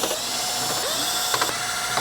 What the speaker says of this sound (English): Now that we've removed the 6 screws from the back